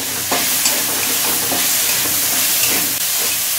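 Onion, a large chopped capsicum and four green chillies fry with salt in a hot pan, producing a loud, constant hissing sizzle with a few soft stirring scrapes scattered through, and no speech.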